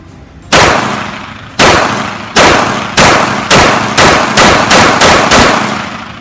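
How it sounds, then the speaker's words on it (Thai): A Glock 17 Gen 5 pistol is fired at a target about 5 meters away, giving ten loud, sharp shots. They start slowly, then come faster, each with a ringing metallic tail and no voices in between. "เดี๋ยวลองยิงดูนะครับว่ามันจะกระชับปืนเนี่ยมาก ขึ้นขนาดไหนนะครับก็ยิงประมาณสัก5เมตร"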